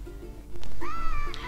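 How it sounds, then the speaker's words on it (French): A small kitten meows once, close and fairly loud, a rising then falling cry over a low steady background hum. "Alors, on a eu un petit chat."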